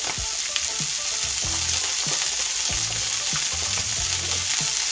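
Salmon frying in a pan, a loud, continuous crackling sizzle up close, with a few soft thumps and scrapes from the pan or utensil scattered through it.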